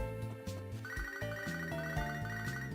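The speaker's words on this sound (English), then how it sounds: "Hello, phone call." Phone call ringtone from the video game Pokémon SoulSilver: a bright, chiptune-style melodic jingle playing continuously with a bouncy bass line, loud and clear, with no voices.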